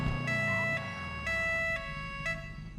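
Met police ELS siren in FiveM, a loud electronic two-tone wail switching between high and low pitches at regular intervals, close and alone, with an engine rumble underneath.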